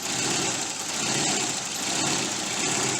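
An early 90s Volvo car engine runs steadily at idle, a continuous rough rumble with broadband noise, close and loud, with a slight slow swell in level and no voices.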